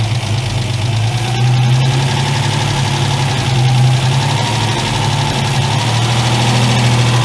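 A Ford Capri MK1 engine idles steadily after sitting eight years, a loud, close, low rumbling drone that runs unbroken throughout with a slightly uneven, knocking pulse.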